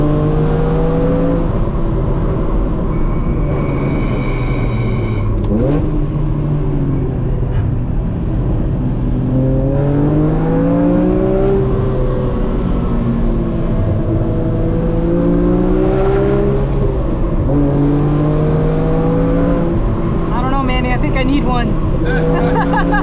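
BMW Z4 M Coupe engine revving through rev-matched downshifts, the pitch climbing and falling in repeated sweeps, loud and close throughout, with someone talking over it.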